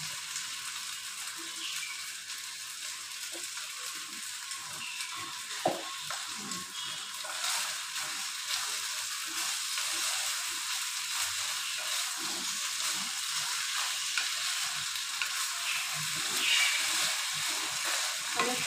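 A little ghee and two green chillies added to cooking pulao sizzle softly and steadily, a faint continuous frying hiss with scattered light crackles and small stirring knocks, no voices.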